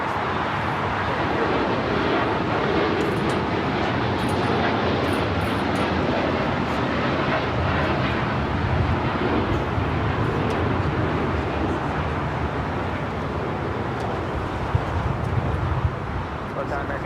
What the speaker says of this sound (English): the flight heading to Osaka, Japan, now rolling down to 25 right